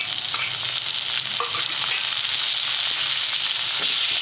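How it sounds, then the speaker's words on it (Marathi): Chopped tomato frying in hot spiced oil tempering for a Marathi amti, a loud, steady sizzle with crackling pops throughout, close and continuous, with occasional stirring scrapes and no talking. "व्यवस्थित फोडणी बसू द्यायची।"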